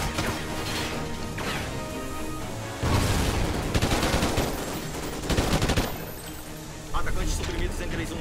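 Loud, dense gunfire in Call of Duty: Ghosts rattles in repeated bursts over a constant wall of game noise, with heavier impacts recurring every couple of seconds.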